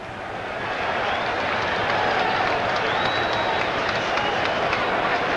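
A stadium crowd at a 1992 Chicago Bears at Tampa Bay Buccaneers football game claps and murmurs in a broad, steady wash of noise that swells after the first second and holds.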